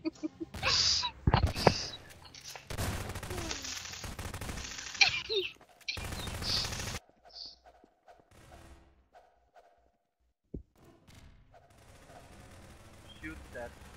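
Bursts of gunfire in a Garry's Mod Prop Hunt match, loud rapid volleys packed into the first seven seconds, then sparse thuds and quiet game sounds, with players talking over them.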